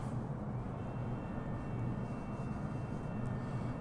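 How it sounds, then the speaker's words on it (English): Steady jet roar from an airliner's reverse thrust during landing in Microsoft Flight Simulator, a continuous low rumbling drone holding at an even level throughout. "The reverse thrust."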